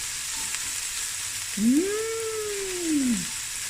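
Onions sweating in a pan for a mutton curry give off a steady soft sizzle and hiss throughout, with a brief scrape of stirring partway through and no talking.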